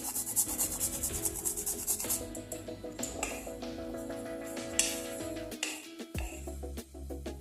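A whole nutmeg is grated by hand in a kitchen, making a steady rhythmic scraping and rasping that repeats continuously up close, with no speech over it.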